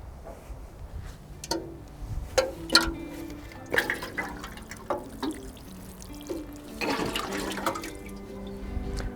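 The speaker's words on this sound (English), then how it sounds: "the final stage is to water your pot" Water poured over a freshly planted scented container pot after its surface has been dressed, giving irregular splashes and trickles that come and go, with dripping in between, fairly close and alone.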